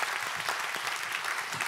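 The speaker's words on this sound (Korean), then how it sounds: "박수로 환영해 주십시오." A crowd at a presidential candidate forum claps steadily and densely to welcome Democratic United Party candidate Moon Jae-in, a continuous even wash of applause with no voices on top.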